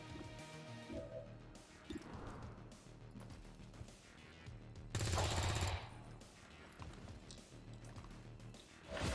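Gunfire and explosive impacts crash out in the turn-based strategy game XCOM 2, several heavy bursts including one loud blast midway, over a layered game soundtrack.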